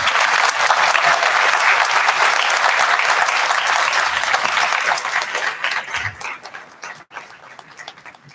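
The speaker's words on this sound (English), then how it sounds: "can we please give the staff a round of applause?" Audience at a graduation ceremony applauding the staff: dense, loud clapping from a large crowd that holds steady for several seconds, then thins into scattered claps and fades near the end.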